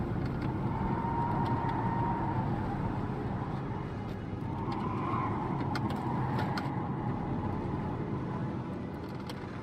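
Inside a car speeding away during a police chase in the video game Heavy Rain, a constant, loud engine and road rumble holds steady with a few faint clicks and thumps, with no talking.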